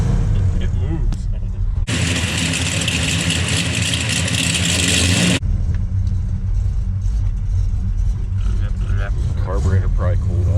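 A 1968 Oldsmobile 442 V8 rumbling loudly close by, with a dense, roaring burst of revving in the middle and a lower, uneven engine rumble around it.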